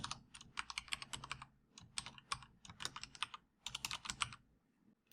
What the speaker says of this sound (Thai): ผมจะพิมพ์สั้นๆว่า point of sale พอเนาะ